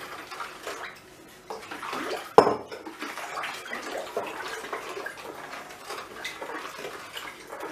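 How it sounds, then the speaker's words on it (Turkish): Water poured into a batch of homemade lemonade and stirred, a steady splashing and swirling with a sharp clink of utensil against the container partway through, close and continuous. "suyumuzu ilave edip şöyle gene karıştırıyoruz"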